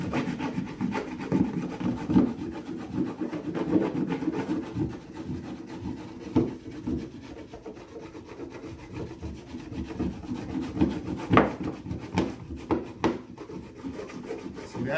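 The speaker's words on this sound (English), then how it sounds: "I'm gonna wax up half that deck right there." A bar of wax is rubbed vigorously across a surfboard deck, giving close, continuous scratchy scrubbing strokes at a fast irregular rhythm.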